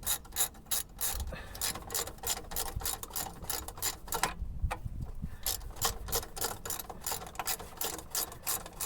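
Rapid clicking of a ratchet tightening the multi-rib alternator belt on a Citroen C3 engine being rebuilt, steady close ratcheting strokes with a brief pause midway, no talking.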